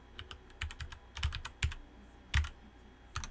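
Code being typed on a computer keyboard: soft, irregular key clicks in small clusters, close and quiet, with no talking.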